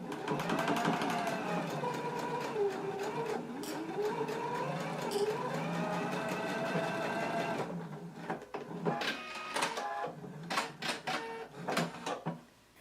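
Serger or sewing machine finishing the long edge of a shirt facing, running steadily and fairly loud for about eight seconds, then stopping into a few short bursts and clicks as the fabric is adjusted.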